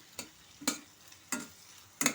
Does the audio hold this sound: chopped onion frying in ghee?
yes